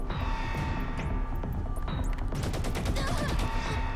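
Gunfire in the video game Saints Row: The Third, Gangstas in Space DLC, a dense stream of loud, overlapping shots and crashing impacts that continue steadily through the whole stretch, with a busier burst of rapid blasts near the end.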